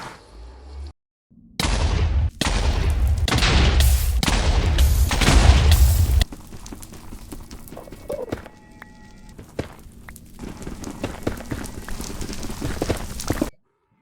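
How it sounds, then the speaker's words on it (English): Beds detonating one after another in Minecraft's Nether while mining down for netherite: a rapid string of loud, booming blasts over a few seconds, then quieter crumbling and ambient rumble. "dig down to netherite level, and just start bombing with beds"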